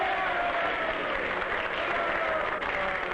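Enthusiastic applause at a Communist International congress, a continuous wash of many hands clapping heard at moderate level from across a large hall.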